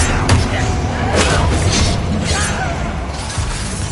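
Expelliarmus cast in Hogwarts Legacy hits with a sharp crackling burst and shattering impact, followed by swooshing magical whooshes and thuds in a busy combat mix, with a player talking over it.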